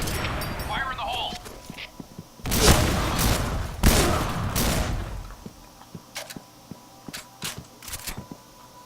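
A grenade explodes in the shooter video game Point Blank: a few loud bursts and booms in the middle, then scattered sharp gunfire clicks and shots, with voices calling out in the game.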